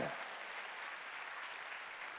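A church congregation claps together in a short burst of applause during a Sunday worship service, steady and fairly distant, filling a large room for a couple of seconds.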